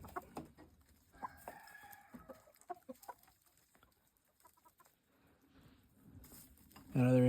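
Gamefowl hens and a rooster cluck and call around a farmyard, with a short crow-like call near the start and scattered clucks, faint under someone talking, before a louder burst at the end.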